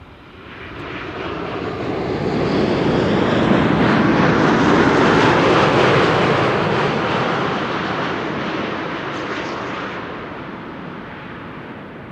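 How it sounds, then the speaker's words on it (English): A Delta Airlines Airbus A330 arrives at Amsterdam Schiphol airport with its landing gear down, a broad jet roar that swells to a loud peak as it passes and then slowly fades, with no talk over it. "Delta Airlines flight 74, arriving from Atlanta, Georgia. A330, right there, gear already out."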